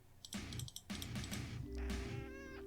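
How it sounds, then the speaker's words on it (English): Short, clicky game sound effects end in a small, rising meow-like chirp from a cactus in the Death and Taxes video game, quiet and close. "It's like a little meow."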